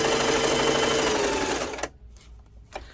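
A sewing machine stitches with black thread in a steady, close, dense whir that stops abruptly, leaving a few faint clicks and handling noises.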